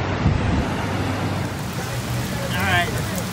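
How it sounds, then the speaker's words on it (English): Steady rain hisses down as a Florida afternoon storm arrives, a dense continuous wash with low rumble beneath and a brief high chirp near the end; a faint voice murmurs briefly. "rain finally caught up with us on day three here"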